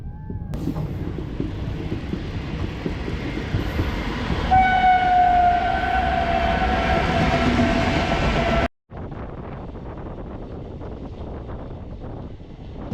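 Begampura Express passenger train rolling steadily away from a station, heard from on board: continuous loud rumble and rattle of carriages with wind noise and a faint distant horn-like tone, briefly cutting out before the running noise resumes.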